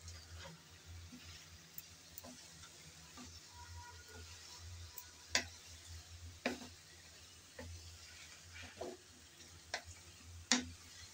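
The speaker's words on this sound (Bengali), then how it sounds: "আমি 2 মিনিট পর আবারও একটু নাড়িয়ে দিতে আসলাম।" Quiet stirring of banana stem curry in a cooking pot, faint sizzling under a low background hum, punctuated by scattered scraping taps of the spoon against the pot.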